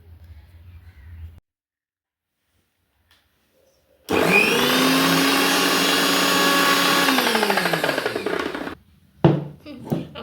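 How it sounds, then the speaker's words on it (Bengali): A kitchen mixer grinder runs loud and close for about five seconds with a steady high whine, then winds down, with soft voices before and after. "আমরা এই মিক্সিতে বাটি"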